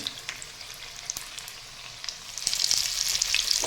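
Batter-coated suran, elephant foot yam, fritters frying in hot oil, a close hissing sizzle with scattered pops that grows louder and busier toward the end, with no voices.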